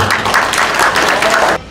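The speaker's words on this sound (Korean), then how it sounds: "앞으로 나와주실 때 힘찬 희망의 박수 부탁드리겠습니다" Applause from an audience at a New Year's gathering and advisory council workshop in Korea, a dense steady burst of clapping that stops abruptly near the end.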